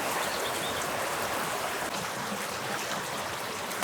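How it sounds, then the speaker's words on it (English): Heavy, lashing rain falls around a parked van, a steady dense hiss of water that holds constant throughout with no talk, ending in a brief louder burst. "right now it is absolutely lashing rain"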